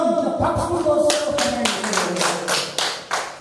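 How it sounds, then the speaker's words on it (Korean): A small audience at a singing class in Daegu claps, with distinct hand claps and taps landing over a faint musical tone, close and fairly loud, with a few separate sharp claps near the end. "박수 한번 주세요."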